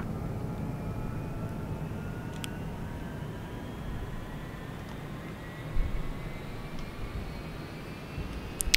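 A UH-1H Huey helicopter turbine spools up during engine start in the DCS flight simulator, a steady whine rising gradually in pitch over a broad rumble, with a couple of faint clicks.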